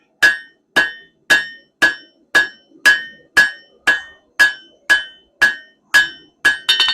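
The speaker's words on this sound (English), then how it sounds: "Hammering square" A blacksmith hammers square steel stock on an anvil, producing a dozen sharp, ringing metallic strikes at an even pace, a little faster at the very end, close and loud with no speech.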